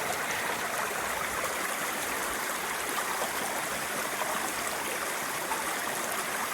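A creek flows in a steady, unbroken rush of water over rocks, close and continuous with no voices.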